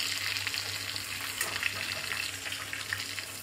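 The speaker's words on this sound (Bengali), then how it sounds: "তোপসে মাছের ফ্রাই চলছে হওয়া" Small topse fish sizzle and crackle steadily in hot oil, a dense continuous frying hiss with occasional sharper pops, close by.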